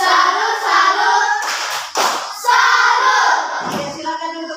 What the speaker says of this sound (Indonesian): Baik, tepuk salut untuk Naya.